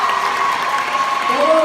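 An audience claps for a musician at a 2019 youth assembly, steady applause filling the room with some crowd noise and cheering mixed in, loud and close throughout.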